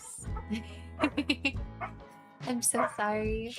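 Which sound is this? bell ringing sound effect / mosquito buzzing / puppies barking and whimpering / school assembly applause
puppies barking and whimpering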